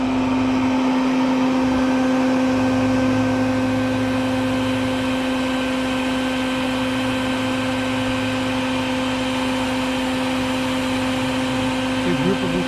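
A vacuum running steadily to suck up baldfaced hornets near a walkway nest, a constant droning whine with a strong steady hum and no pauses, close to the microphone.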